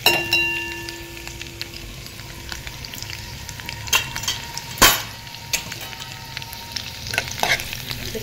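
Garlic, mustard seeds and cumin frying in hot oil, a continuous crackling sizzle broken by scattered pops, spoon scrapes and a couple of louder clanks against the pan.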